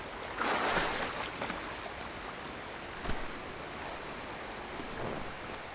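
A waterfall in the video game Assassin's Creed III Remastered gives a steady, dense rush of falling water. It is broad and continuous throughout, with a brief swell early on and a soft thump near the middle.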